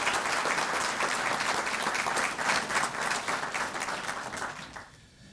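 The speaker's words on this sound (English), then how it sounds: "Give Lieutenant Beasley a round of applause." Sustained applause from an audience at a police department promotion and swearing-in ceremony, honoring Lieutenant Beasley; dense steady clapping for about four seconds, then thinning and fading out near the end.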